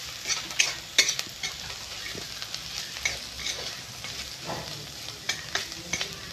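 Mustard seeds fry in a pan with turmeric powder for a drumstick curry, giving a steady close sizzle broken by sharp clicks and spatula scrapes, with no talking.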